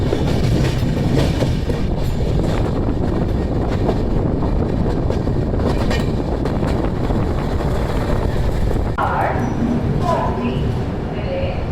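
A moving passenger train rolls through Punjab, its loud, steady rumble and rattling wheels filling the interior, with faint voices audible near the end.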